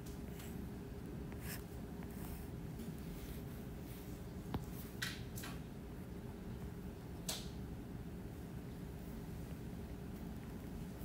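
Drawing on a board during a calculus lecture, with faint, scattered scratchy strokes and taps against a quiet room hum, no talking.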